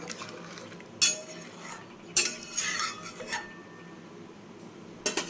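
Masoor dal with ridge gourd stirred in a pot with a spoon, giving a few separate scraping, clinking bursts against the metal with quiet gaps between them.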